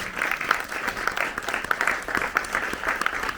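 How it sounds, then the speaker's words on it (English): An audience in Hot Springs, Arkansas applauds in a steady, dense wash of clapping with scattered louder claps throughout the short stretch. "Another round of applause for Maybelline."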